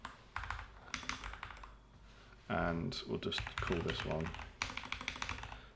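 Rapid, uneven typing clatters on a computer keyboard in bursts, with someone speaking briefly over the keystrokes and a few louder thumps mixed in.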